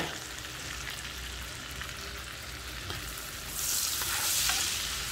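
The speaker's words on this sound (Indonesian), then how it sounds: "kita akan tumis sampai bawang putihnya sedikit kecoklatan" Garlic and bird's eye chili sauté in butter in a wok, a steady close sizzle with soft stirring scrapes, swelling into a brighter, louder hiss near the end.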